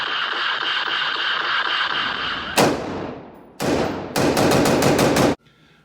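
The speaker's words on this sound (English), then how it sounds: "As fast as I can pull the trigger is as fast as I can shoot it." A semi-automatic rifle fired as fast as the trigger can be pulled: loud, close sharp shots in a quick burst after a sustained hum, ending abruptly.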